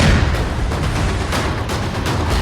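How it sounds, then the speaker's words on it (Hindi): A terrorist's house in Pulwama district's Muran area is blown up by a demolition blast, a loud, dense, continuous roar of rumble and debris that fills the whole moment without a break. "2, 1 और जोरदार ब्लास्ट। एक धमाका हुआ"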